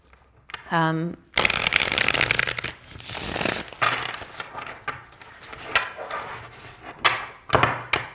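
Tarot cards riffled and shuffled in quick bursts, a crisp fluttering rush close by, with a soft voice speaking between shuffles.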